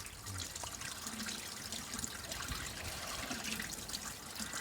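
Waste draining from a motorhome holding tank at a service point produces a faint continuous trickling, gurgling flow that keeps going steadily without pause.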